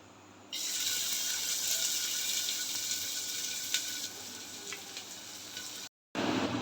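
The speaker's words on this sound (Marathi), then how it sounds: "सूप बनवण्यासाठी कुकरमध्ये तेल घालून घेऊया ह्यामध्ये घालूया कांदा" Onion frying in hot oil in a pressure cooker while making chicken soup, a steady loud sizzle that starts abruptly after a brief quiet, runs on evenly, then cuts out and resumes near the end; no one speaks.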